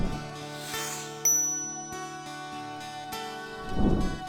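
A bright notification bell chimes, a clear ding at about one and a quarter seconds ringing over a soft sustained tonal background, with a second lighter ding near the end and no talk.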